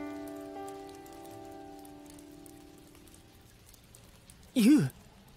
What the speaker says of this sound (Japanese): ユウ、雨が降ってるのに何やってんだ